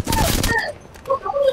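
Gunfire bursts in an online shooter video game, a dense rapid volley for about half a second followed by scattered fainter game effects and shots.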